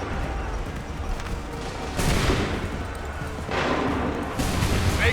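Musket volleys fired by lines of soldiers in Assassin's Creed III, several loud crackling bursts breaking out over a rumbling battlefield din, with shouted voices mixed in.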